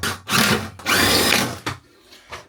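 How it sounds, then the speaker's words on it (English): An electric screwdriver driving screws on a sailboat at a dock, running in two strong bursts of about half a second each, then shorter, fainter whirs and clicks. "I'm gonna get the electric screwdriver."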